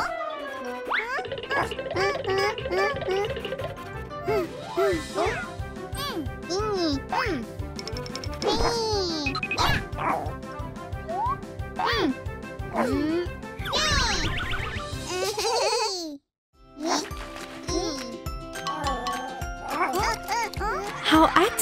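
In a children's cartoon, an energetic baby dog gives repeated yappy barks over a bright, jingly musical backing, with cartoon voices and playful sound effects mixed in throughout.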